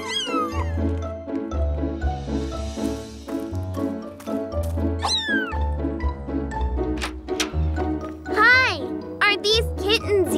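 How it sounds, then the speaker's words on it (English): A cartoon cat meows repeatedly in a kids' animated show, bright pitch-sliding mews over a bouncy music bed with chiming tones, the cries coming in quick succession and growing more frequent toward the end. "Morphle, morph into a cat again."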